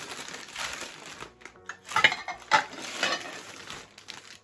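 Ceramic plates unpacked from a parcel, one cracked, clink and scrape against each other, with a few sharp knocks amid rustling as they are handled nearby.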